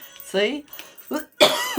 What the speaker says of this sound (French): la toux qui commence